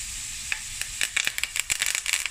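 Thyme sprigs hit hot butter in a frying pan over medium heat, crackling and spitting in a busy, uneven sizzle of quick pops close up, with no talking.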